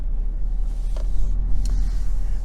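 A Toyota Sequoia Capstone SUV pulls away and drives, heard from inside as a steady low engine and road rumble with a few faint clicks, no talk.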